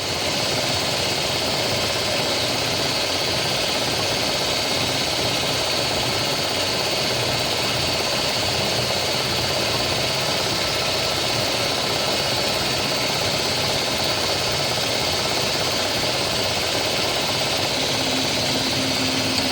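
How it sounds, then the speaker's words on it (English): A large air compressor, big enough to need help carrying upstairs, runs steadily for the whole stretch, a loud continuous mechanical drone with a rapid rhythmic pulse and no talking over it. "I know it's noisy because I got the compressor running in the background"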